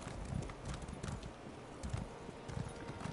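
Horse hooves clip-clop in a steady trotting rhythm in the online fantasy game Elder Scrolls Online, moderately close over a soft windy ambience, with no talk.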